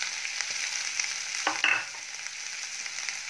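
Finely chopped onions, two medium ones, hiss and sizzle steadily in a pan of hot oil with golden cumin, with a brief scraping stir midway as a spoon moves them around.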